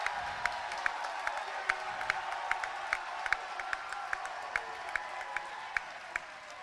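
A crowd at a high-school varsity volleyball match applauds after a point, with sharp scattered claps over a broad, fairly distant hum of cheering.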